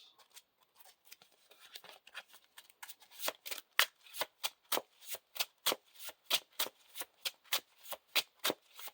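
A deck of Lord of the Rings LCG cards being riffle-shuffled up close, soft rustling at first, then a fast run of crisp, evenly spaced snaps.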